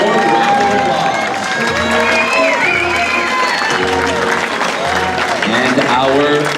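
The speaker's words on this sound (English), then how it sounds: "Let's give Mission San Jose High School Marching Band a warm round of applause." Applause and cheering from a parade crowd for the Mission San Jose High School Marching Band at the Santa Clara Parade of Champions, steady and loud throughout with voices and shouts mixed in.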